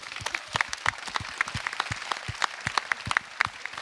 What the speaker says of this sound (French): je vous demande un tonnerre d'applaudissements pour Alexandra Nouchet